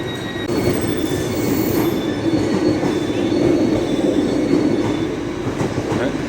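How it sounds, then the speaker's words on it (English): A passenger train bound for Edinburgh pulls away from a station platform nearby, wheels grinding and faintly squealing on the rails over a steady rolling rumble. "There goes the happy train to Edinburgh"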